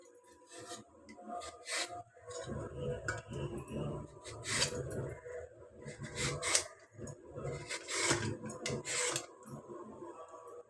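Mango skin being pared off with a peeler, heard as repeated close rasping strokes in an uneven rhythm. The strokes are moderately quiet and no one speaks.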